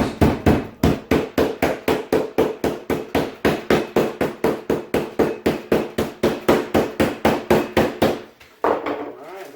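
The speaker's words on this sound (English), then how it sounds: "And then go ahead and tenderize both sides." Meat tenderizer mallet pounds pieces of pork tenderloin in a fast, steady run of loud, close thuds, around three or four blows a second, before a brief pause and a final knock.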